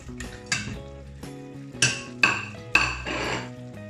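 Chicken pieces are dropped into tomato sauce in a pan one after another, with about five distinct clattering plops, clinks of utensils on the pan and a soft sizzle between them, heard close with no talk.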